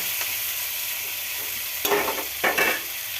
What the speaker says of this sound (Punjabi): ਹੁਣ ਆਪਾਂ ਇਹਨੂੰ ਪਿਆਜ਼ ਨੂੰ ਤੇ ਹਰੀਆਂ ਮਿਰਚਾਂ ਨੂੰ ਉਦੋਂ ਤੱਕ ਭੁੰਨਾਂਗੇ ਜਦੋਂ ਤੱਕ ਇਹ ਆਪਦਾ ਕਲਰ ਨਾ ਚੇਂਜ ਕਰ ਲੈਣ